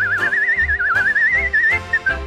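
A person whistles a wavering, vibrato melody line in a Hungarian song, clear and close over a rhythmic band accompaniment with regular low beats.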